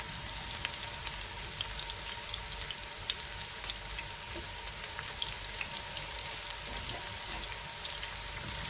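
Green chili and onion fry in hot oil for a tadka for kadhi pakora, a steady, even sizzle and crackle that carries on alone throughout.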